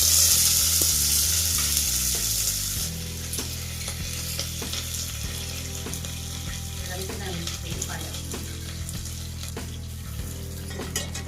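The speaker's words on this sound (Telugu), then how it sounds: "వెల్లుల్లి కొంచెం కలర్ చేంజ్ మిర్చి వేయాలి తర్వాత కొత్తిమీర" Garlic, green chillies and curry leaves frying in hot oil in a pan for a green chilli dal, a close, steady sizzle that is loud at first, then settles lower, with occasional scraping stirs.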